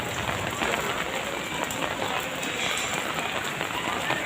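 Heavy rain pouring down at an outdoor festival gathering in the evening, a dense, loud, continuous hiss of drops striking surfaces all around.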